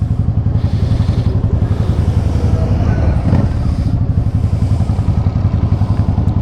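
Motorcycles riding through downtown traffic, a steady loud engine drone with fast rhythmic pulsing, close by and continuous throughout, with wind-like rumble underneath.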